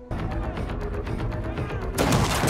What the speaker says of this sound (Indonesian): Orang yang sedang bawa pistol ini langsung melakukan tembakan terhadap para perampok.